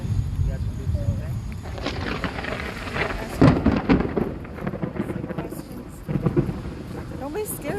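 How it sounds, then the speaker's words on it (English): Outdoors, thunder rolls in a low, rumbling swell over steady rain, with occasional sharper cracks and nearby voices talking. "Don't be scared. It's just thunder."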